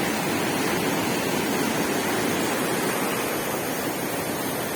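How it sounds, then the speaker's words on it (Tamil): Water rushes over the Thandri dam in a constant, dense broadband roar, steady and fairly close with no voices. "தண்ணி வந்து இந்த தன்ற அணைக்கட்டில் போயிட்டு இருக்கு."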